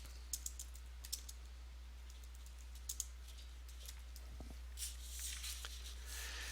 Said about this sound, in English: and now I can begin to type.